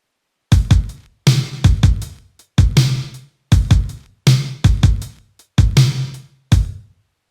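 An 80s-style drum beat built from a 707 drum kit in Ableton with gated reverb: punchy kicks and snares whose big reverb tails are cut off abruptly, playing loud and alone in a steady pattern.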